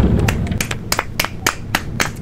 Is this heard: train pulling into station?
no